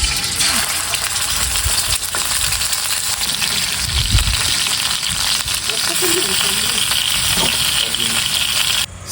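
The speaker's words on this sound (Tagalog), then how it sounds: "nilagyan ko na siya ng mantika. Bali, piprito muna natin to" Chicken frying in cooking oil for a Filipino home-cooked dish, a steady dense sizzle with crackles and pops running continuously at close range, with occasional clinks of a utensil.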